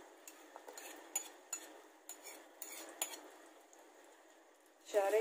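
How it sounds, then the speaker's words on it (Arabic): Butter scooped with a large spoon into hot oil in a pot, with repeated metal spoon clinks and scrapes against the pot and a soft sizzle building louder at the end. "ودلوقتي حطيت معلقة من الزيت، هنزل بقى بالمعلقة الكبيرة من الزبدة"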